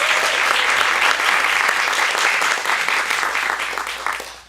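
A storytelling event audience applauds with loud, dense clapping from many hands, sustained evenly before fading slightly toward the end.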